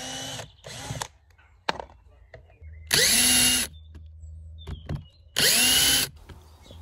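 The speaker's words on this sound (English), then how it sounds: "I'm just taking off some of the old stainless steel screws, which are in excellent order" A power driver backs out old stainless steel screws in a series of short whirring bursts, two quick ones, a brief tick, then two longer runs with pauses between, close and loud with no talk.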